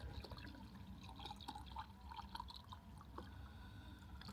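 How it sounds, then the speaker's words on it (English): Water poured from a container into a mug for an electric kettle while car camping: a steady, soft trickling and splashing that runs for several seconds, faint and close, with no talk. "I want to put some water in here and then plug it into my kettle"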